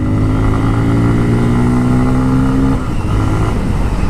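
A Bajaj Pulsar F250 motorcycle accelerates on the road, its exhaust giving a loud, close, steady droning growl that dips briefly near the end, as at a gear change, before the growl resumes; no voices.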